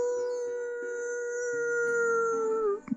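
A person imitates a wolf with a long, sustained howl held at a steady pitch for nearly three seconds, then trailing off with a brief breathy break at the end, close and clear.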